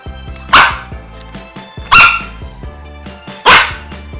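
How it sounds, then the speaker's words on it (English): A dog barks three times, loud and close, with gaps of over a second between the barks, over a soft background. "Dogs make the sound."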